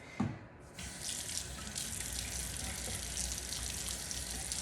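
Tap water runs steadily into a sink for face washing during a skincare cleansing routine, a close, continuous broadband rush that starts after a brief knock and holds evenly to the end.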